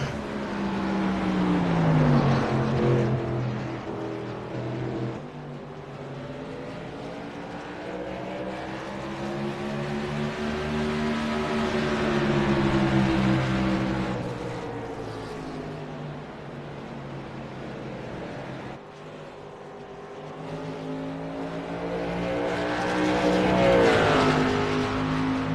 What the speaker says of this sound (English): He's soon getting company from the 41 car of Nathan Miller